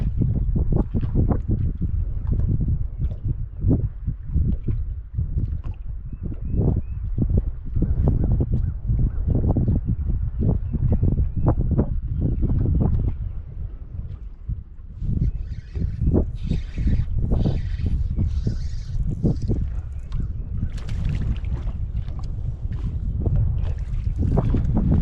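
Wind gusting over a lake during bass fishing from a boat, a loud continuous low rumble with buffeting against the microphone throughout, rising and falling in strength.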